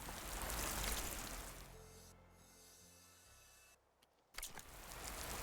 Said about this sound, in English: Rain once again.